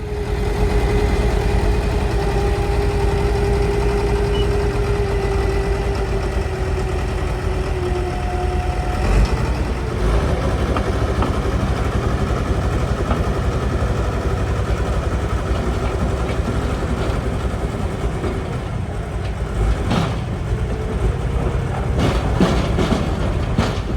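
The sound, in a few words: bulldozer engine running while towing another bulldozer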